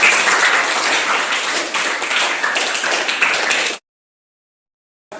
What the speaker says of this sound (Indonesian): Ya, bagus sekali, tepuk tangan.